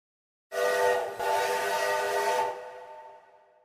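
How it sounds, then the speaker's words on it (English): A train whistle sounds suddenly out of silence as one long, loud, steady blast with a brief break near the start, then fades away while still held. "The train whistle blew."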